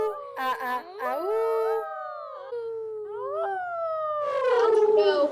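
A dog gives a long series of loud, close howls that rise and fall in sliding wavering tones, broken by short yips, alone with no other sounds.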